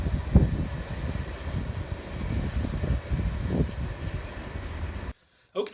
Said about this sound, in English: I think it's a freight train, either M893 or M693.